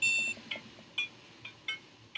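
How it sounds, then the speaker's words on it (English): An alarm clock in the Dream Daddy video game gives a rapid string of electronic beeps, then short repeated bleeps at a steady pulse over a soft background hum. "I jolt awake to the sound of my alarm."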